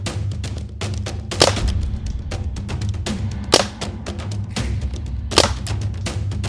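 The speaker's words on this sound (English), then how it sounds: "I'm gonna shoot towards his right side, and let's see how this gun performs on that vest." A Crosman 1077 CO2 airgun firing Crosman Piranha pellets into a tactical vest, a run of sharp snapping shots at an irregular, fairly quick pace, three standing out louder, over a low steady background hum.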